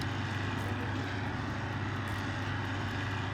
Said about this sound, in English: Oh, there goes a jet plane overhead.